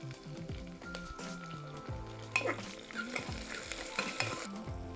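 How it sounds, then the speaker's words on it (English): Diced onions frying in a pan with ginger and garlic, a steady sizzle with spoon stirring strokes that grows brighter midway, close and moderately loud, with no voices. "So after ginger and garlic I will add the diced onions."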